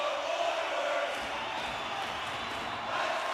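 A crowd in the NHL 25 hockey video game, at a playoff game between the Oilers and Canucks, roars in a steady, dense wash of noise that continues without a break.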